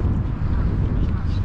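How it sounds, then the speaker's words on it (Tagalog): Steady low rumble of wind buffeting the microphone, loud and continuous throughout, with a faint voice mixed in. "Ang hangin naman eh ito."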